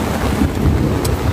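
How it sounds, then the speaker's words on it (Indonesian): Thunder rumbles during heavy rain at a campsite in an old tent, a loud, dense low roar mixed with rain and wind noise against the tent throughout the short stretch. "Petir guys, petir."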